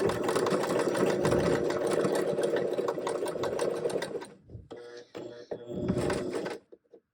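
A domestic sewing machine stitches a buttonhole, running in a fast steady buzz for about four seconds, then stopping and starting in short bursts before falling silent.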